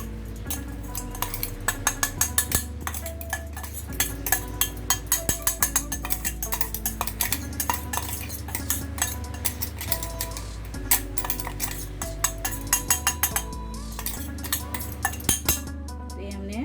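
Metal spoon scraping and clinking against a pot while coarsely ground masala is spread over chicken, a steady, rhythmic run of bright taps and clinks, close and clear, over a constant low background hum of music.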